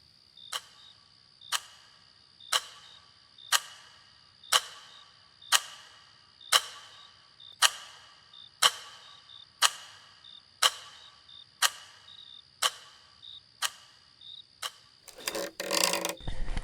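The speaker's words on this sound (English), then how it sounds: "They listened to the ticking clock." A clock ticking steadily, about one sharp tick per second, close and clear in a quiet room, ending with a short rustling burst.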